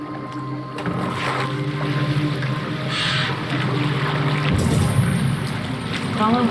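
A boat sails across open water in Assassin's Creed Valhalla, with a steady wash of water and a low drone running under the whole stretch and faint voices mixed in.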